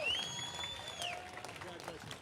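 A grandstand crowd cheers and applauds the winner after the Daytona 200 motorcycle race at Daytona International Speedway, a faint distant wash of claps under an announcer's voice.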